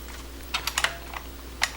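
Computer keyboard typing at a desk: a short sparse burst of about half a dozen crisp keystrokes, close and clear, with a quiet background.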